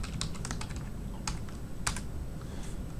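Keys tapped on a computer keyboard in a few quick, irregular clusters of soft clicks, quiet and close, with no talking.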